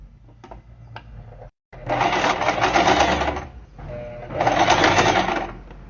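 Sewing machine stitching fabric for a diaper holder with a wipes pocket, heard as two close, loud runs of rapid stitching separated by a short pause, with faint handling noises before the first.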